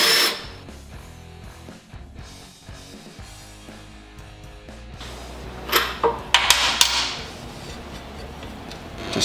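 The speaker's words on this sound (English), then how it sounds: "Remove the caliper bolts on both sides. It is a 10 millimeter 12 point." A hand or power tool works on the 10 mm 12-point brake caliper bolts of a Harley-Davidson bagger's front wheel, with intermittent whirring and clanking bursts, growing louder and busier in the second half.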